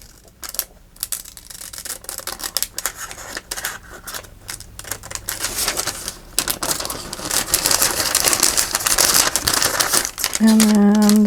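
A glassine paper bag is cut with scissors and folded by hand, making close crisp crinkling, rustling and snipping that grows busier over time and ends in a brief tone.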